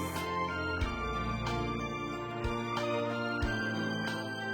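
Old-timey music from the video game Pigeonations plays at a moderate, steady level, a dense harmonic tune with regular rhythmic accents and no talking over it.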